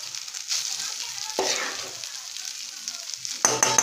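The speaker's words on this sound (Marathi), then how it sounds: "आता याच्यामध्ये मी भात टाकणार आहे परतून उकडून घेतलेला जो भात आहे तो टाकणार आहे" Boiled rice tipped into a frying pan and stirred for egg biryani, with an oily sizzle under a sudden scraping burst of grains and spatula partway through, then a brighter clatter at the end.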